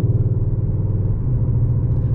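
Steady, loud rumble of a 2021 Skoda Octavia RS with the 2.0 TSI petrol engine and DSG gearbox, heard from inside the cabin as it drives and shifts smoothly, with no voices.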